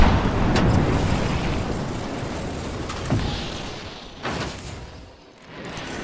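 Frag grenade blast in the video game Apex Legends, a loud booming explosion with a long rumbling decay, followed by fainter game sounds.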